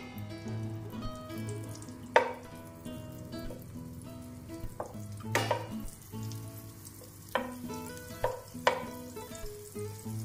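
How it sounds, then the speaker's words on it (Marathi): Chopped onion sizzles in a spoonful of butter on a pan over medium heat: a steady close frying hiss with sharp crackles and pops scattered throughout. "आता आपण 1 चमचा बटर टाकून त्यामध्ये कांदा भाजून घेणार आहे."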